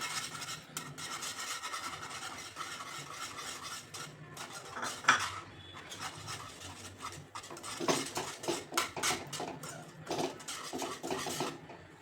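Milk powder mixture for mango burfi stirred with a whisk in a bowl: rapid scraping and clinking strokes, sparse at first and then denser in bursts, close and moderately loud, with no talking.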